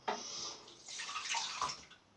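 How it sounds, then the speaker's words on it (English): Water is splashed and scooped onto a face mid-shave, giving two soft bursts of close splashing and dripping with no talk. "just putting water on my face now"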